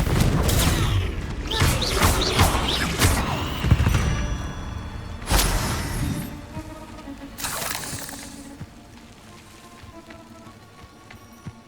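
The Confringo fire spell detonating in the game Hogwarts Legacy: a burst of crackling blasts and debris with booming impacts, loud and close at first, then a few more bursts that fade into quieter rumbling.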